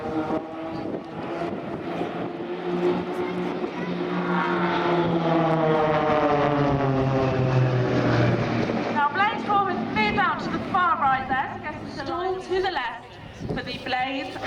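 A propeller aerobatic aircraft at a seaside airshow, its engine droning loudly and rising and falling in pitch as it swoops past, with a commentator talking over it.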